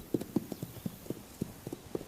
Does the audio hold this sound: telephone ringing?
no